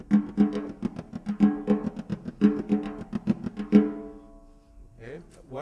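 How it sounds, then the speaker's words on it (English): A tambourim, a small jingle-less samba frame drum, struck with a stick in one hand and muted by the other, playing a syncopated samba pattern. Sharp, dry, close hits in a repeating rhythm, alone, ending with a brief hum. "a smaller drum called the tambourim, which is like a tambourine without jingles on it"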